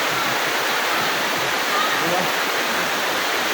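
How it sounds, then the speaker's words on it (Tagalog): Heavy rain pounds a house in Taysan, Batangas, a dense and steady roar at close range that never lets up. No talking can be picked out over it. "Kaya sobrang lakas ng ulan mga bro ng aming bahay."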